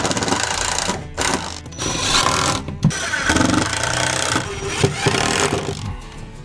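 A power drill or driver whirs in short bursts while a couple of screws are driven through to fix a piece against the end of a wooden box, with motor pulses and pauses close by.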